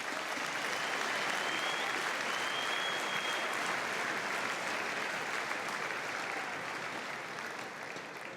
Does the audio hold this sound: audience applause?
yes